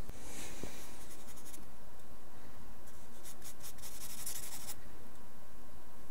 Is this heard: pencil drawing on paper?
yes